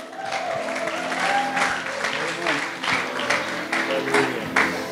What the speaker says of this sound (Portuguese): vamos aplaudir o Alexandre